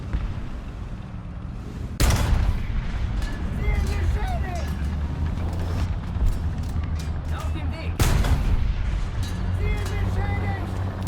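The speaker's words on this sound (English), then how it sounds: "Missed the shot on the stationary tank" A Leopard 2AV tank cannon fires twice in a video game, each a sharp, heavy boom about six seconds apart, set against a constant low engine rumble and scattered battle noise.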